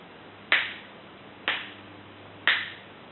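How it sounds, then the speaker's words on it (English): Three crisp finger snaps ring out alone about one second apart, each sharp and close against a quiet background. "snap your fingers."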